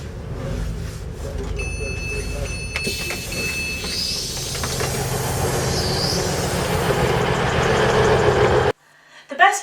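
Transpennine Express passenger train running toward Manchester Victoria, with a steady close rumble of wheels and engine, faint squeals and shifting whine, ending abruptly in near silence.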